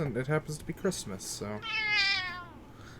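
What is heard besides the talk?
pet cat meowing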